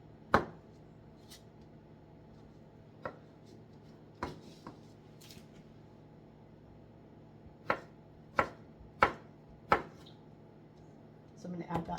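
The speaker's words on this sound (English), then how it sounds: "slice up half the beet" Knife chopping through soft boiled beet on a cutting board, several sharp separate thunks spaced irregularly, then a rapid quicker cluster of cuts at the end, close and clear over quiet room tone.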